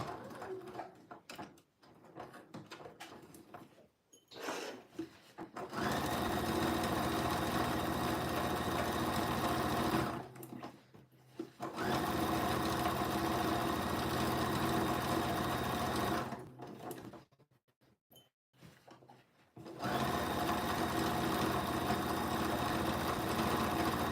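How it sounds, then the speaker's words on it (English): A sewing machine stitches a garment seam at a 1 cm allowance in three long, steady whirring runs, separated by short pauses filled with faint handling noise. "I'm going to sew with 1 centimetre seam allowance, just starting at the top here."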